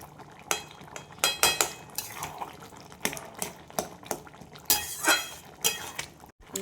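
A metal spoon mashes boiled potato pieces into a thickening gravy in a cooking pot, producing repeated close clinks and scrapes against the vessel in an uneven rhythm.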